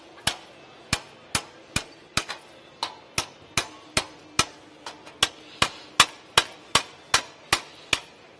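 Hammer blows beating a metal part into a hole in a garage, about twenty sharp ringing strikes at a steady rhythm of roughly two to three per second, close and loud.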